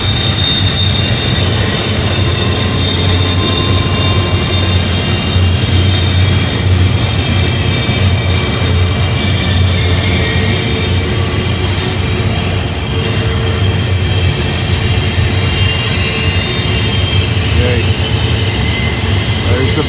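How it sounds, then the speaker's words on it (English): A long freight train rolls steadily around Horseshoe Curve on a grade, a loud, continuous rumble of wheels and cars with faint intermittent squeals, unbroken for the whole stretch. "There's the back of the train."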